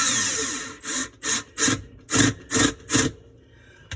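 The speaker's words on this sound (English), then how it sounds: "I'm using a screw gun" A screw gun on a low setting drives a short Torx screw into the plastic of a Kenmore dishwasher being reassembled, giving six or seven short, close whirring bursts separated by brief pauses.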